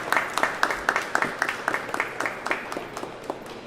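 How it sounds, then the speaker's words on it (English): Audience clapping at a press conference at a state capitol advocacy day, a small group producing sparse, uneven claps that patter for a few seconds at moderate distance. "Let's clap for her one more time."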